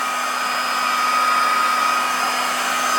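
A heat gun blows hot air steadily for pinball playfield plastics repair, a loud continuous whooshing whine with a constant pitch and no pauses, close up and heard alone without any talk.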